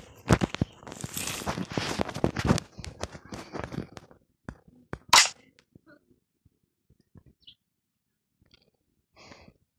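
Rapid bursts of gunfire from a shooting video game, a dense cluster of loud cracks early on, then one sharp shot and scattered faint clicks with quiet gaps.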